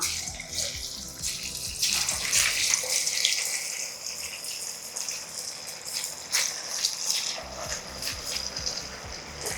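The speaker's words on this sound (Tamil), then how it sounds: "இப்போ சாப்பங்கிழங்க கொஞ்சம் கொஞ்சமாக போட்டு பொறிச்சு எடுத்துக்கலாம்" Taro pieces drop into hot oil and fry, producing a close, continuous hissing sizzle with bursts of bubbling as more pieces go in, with no talk.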